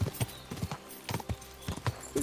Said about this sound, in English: I feel like my horse is going slow for some reason.